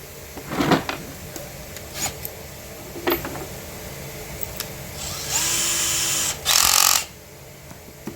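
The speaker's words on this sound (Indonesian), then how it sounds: "Sekarang kita coba bagian lainnya, seperti halnya menggunakan bor besi." A Bitec CSR 12-2 cordless drill set to metal-drilling mode gives short whirring bursts, then two sustained high-pitched runs near the end, close and fairly quiet, with no talk.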